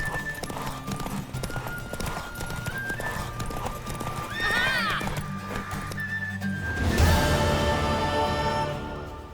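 Hooves clatter in a steady galloping rhythm as a mare races in The Witcher 3: Wild Hunt, with a horse whinnying midway and a loud rush of sound near the end.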